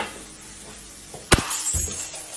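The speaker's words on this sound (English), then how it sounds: "the glass suddenly shatters out of nowhere" A glass shatters suddenly with one sharp, loud crash midway through, followed by a brief spray of tinkling fragments and a low rumble, with no talking.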